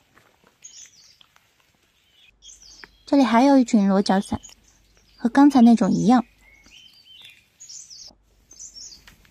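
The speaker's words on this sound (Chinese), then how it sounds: "不过这个时候的鸟叫声非常的好听。" Faint, scattered birdsong drifts through a Yunnan forest in the rainy season, with small high chirps heard in the pauses between two stretches of close talking.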